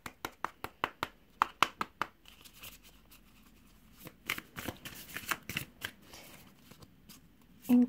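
Tarot cards are shuffled by hand in a series of crisp, rhythmic riffles and taps, close and fairly quiet, with softer sliding and flicking of cards toward the end.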